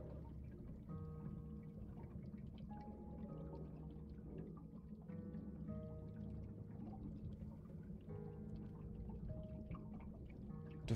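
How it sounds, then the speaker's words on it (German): Rain in the video game 7 Days to Die: a faint, steady pouring and dripping of water that runs throughout, with no talking. "Jetzt werden wir jetzt nass, obwohl es draußen regnet."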